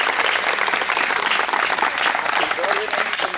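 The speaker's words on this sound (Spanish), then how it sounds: "Demos un aplauso" Loud, dense applause from a crowd at a nursing graduation ceremony in San Cristóbal, filling the whole stretch steadily, with voices talking over it.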